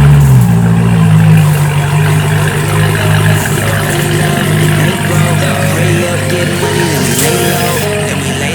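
A Corvette Z06 engine runs loud and close, a deep, steady idle with a low rumbling drone and slight revving that never stops.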